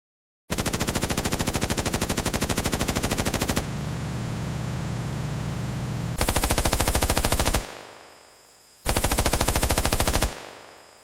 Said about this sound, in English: The M2 kept firing.